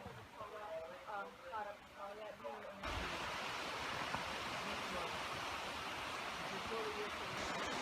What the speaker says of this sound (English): You can hear the river.